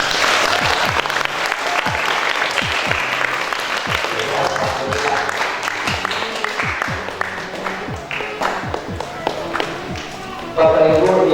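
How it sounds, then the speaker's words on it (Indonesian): An audience at an Islamic boarding school gathering claps loudly and continuously, close and full. Heavy thumping sounds beneath it hint at stamping or banging, and it ends with a sudden louder swell. "Tepuk tangan."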